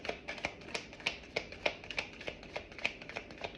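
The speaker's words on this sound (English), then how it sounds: "I'm going to shuffle once more" Tarot cards being shuffled by hand, a quick series of crisp soft snaps and riffles, close and quiet, with no voice over them.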